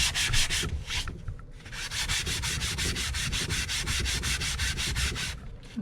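Rhythmic back-and-forth sanding of a wood piece to remove its shiny finish, close and steady with rapid repeated strokes and short pauses, no talk.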